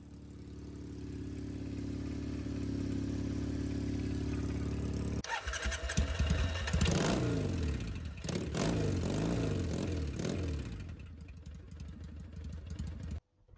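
A motorcycle with a custom exhaust idles with a steady rumble, then the throaty exhaust revs up in several blips before settling back and cutting off.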